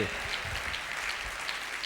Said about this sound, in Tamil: ஏசப்பாவுடைய பிள்ளைகள் மாத்திரம் கையை தட்டி விசுவாசிப்பீங்கன்னா